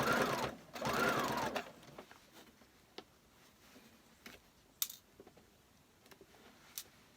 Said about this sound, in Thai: เย็บเข้าให้มันเหมือน เดิมรอยเดิมที่ ที่เราเลาะออกเมื่อกี้เนี่ยค่ะ ให้มันแน่น